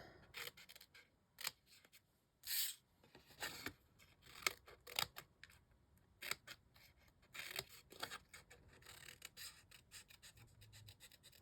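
Scissors snip around a stamped paper flower image in a series of small, close, crisp cuts with uneven pauses, quiet and without talking.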